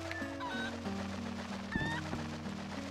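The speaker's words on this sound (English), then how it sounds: "Stupid chicken!" A chicken clucks in Zelda Twilight Princess HD, with several short squawks over steady, sustained background music and no talking.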